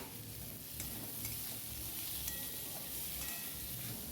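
Pointed gourd frying in a pan, a steady close sizzle with occasional stirring clinks and scrapes, no voices over it.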